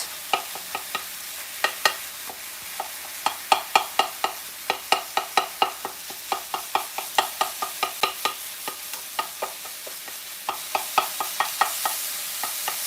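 Meat sizzles in a pan while a utensil breaks it apart, giving a run of sharp, rhythmic scraping and chopping taps over a constant frying hiss. The taps come in quick bursts with brief pauses.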